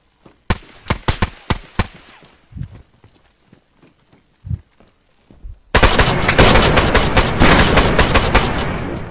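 RPK machine gun fire in the video game DayZ: several sharp single shots and a few duller thuds, then a loud, sustained burst of rapid automatic fire through the final seconds, with no talking.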